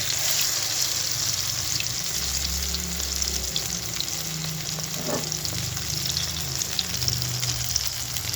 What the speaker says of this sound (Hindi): इसको मैं अभी इसको तल रहा हूँ